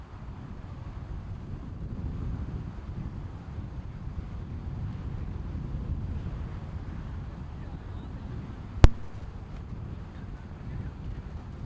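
Wind gusting across an outdoor cricket ground during a tournament final, a low, steady rumbling buffet with one sharp knock near the end and faint voices in the background.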